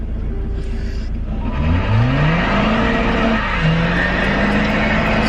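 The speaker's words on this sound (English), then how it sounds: "This guy's doing a burnout right now." A car doing a burnout: its engine revs hard and rises in pitch in repeated surges over a dense, roaring rumble of spinning tyres, loud and close, with no voices.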